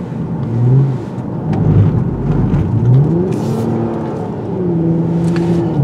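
A 2022 Toyota Camry TRD's engine pulls hard in sport-mode automatic, revs climbing and dropping through several gear shifts in a rising, sweeping drone heard from inside the car, with no talking.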